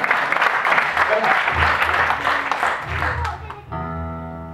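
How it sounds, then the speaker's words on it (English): Audience applause and cheering fill a charity gig for about three and a half seconds, loud and dense, before fading out as a band starts playing. "So give us a round of applause"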